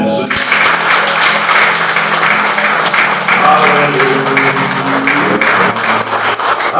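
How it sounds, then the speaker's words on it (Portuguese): A church congregation at a recovery-centre service gives loud, sustained applause, close and continuous, with music tones and a voice underneath. "E a sua melhor salva de palmas para Jesus."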